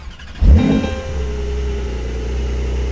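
A Porsche 911 Turbo S engine cranks and fires with a sharp loud burst, then settles into a steady, deep, rumbling idle close by.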